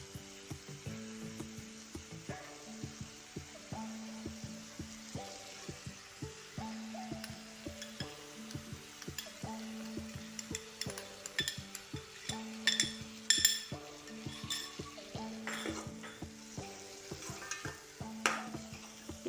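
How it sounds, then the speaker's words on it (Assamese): Mung dal with pointed gourd, salt and turmeric fries in a pan, stirred in repeated scraping strokes over a soft sizzle, with a faint melodic tune in the background. "এতিয়া আমি দালিখিনি ভালকৈ ভাজি ল'ম"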